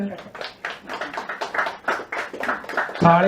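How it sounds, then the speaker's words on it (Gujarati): An audience applauds a Gujarati poet at a book talk show, a short burst of rhythmic clapping with a voice speaking over it toward the end. "થોડીક તાળી એમના માટે તો પાડો"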